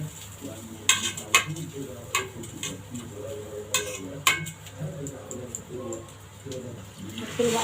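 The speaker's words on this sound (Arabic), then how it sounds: "نحط بقى الميه. طبعا نغطيه بالميه" Water goes into a home-cooking tray of potatoes and chicken, splashing and trickling with sharp clinks of metal pan and spoon, close and moderately loud.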